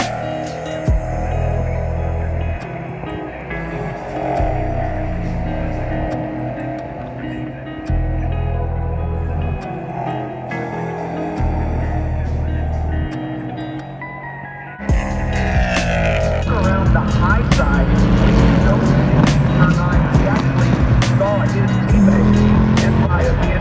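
Race cars in the IMSA prototype challenge at Mid-Ohio, a loud continuous engine roar and throbbing hum that swells sharply as cars pass by at the trackside, while someone talks over it.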